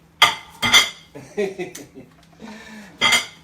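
Hot plates and metal tongs clatter as a dish is plated, with a few sharp clanks near the start and end and softer handling noises between, while a voice murmurs in the background.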